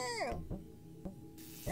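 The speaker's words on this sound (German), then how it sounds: "Und die Katze sagt nein." A cat in the video game Machinarium gives one drawn-out, falling meow, followed by a few soft clicks and thumps from the game.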